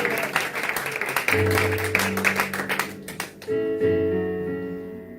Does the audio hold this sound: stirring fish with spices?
no